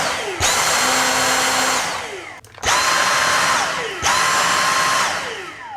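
A Dyson cordless stick vacuum cleaner runs loud and close in three separate bursts, each starting abruptly with a high whine and steady rushing airflow, with brief drops in between.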